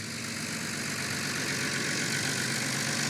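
A tractor engine runs as it drives over a plastic mud control grid outdoors, a steady, dense, loud rumble with no break and no talking.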